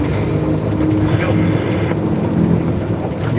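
A truck engine, the Red Baron, runs steadily while driving, a loud continuous rumble from inside the cab with a brief rising whine partway through and no talk over it.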